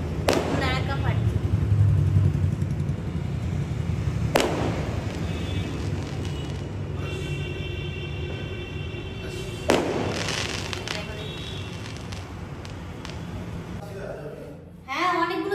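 Firecrackers and fireworks burst at a wedding, with sharp cracks and booms scattered over a continuous crackling din. Voices talk through the noise.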